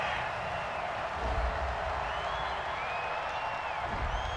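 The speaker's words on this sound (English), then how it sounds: "Well, this crowd does not like that call." Football stadium crowd at a Jaguars versus Browns game reacting to a penalty call, a broad, distant roar of voices with scattered whoops and some clapping, sustained and fairly faint.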